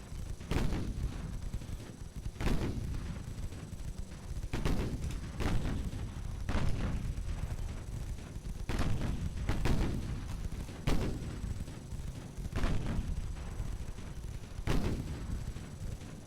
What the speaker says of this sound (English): 2-inch guns on the Protean are opening up